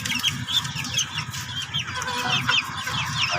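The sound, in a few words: feather-footed Chinese chickens clucking in a cage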